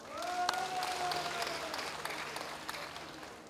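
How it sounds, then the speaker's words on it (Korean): Crowd applause at an outdoor charity performance in Incheon, a sustained wash of clapping from a large audience with a tonal sound and faint voices over it. "박수 한번 쳐주시기 바랍니다"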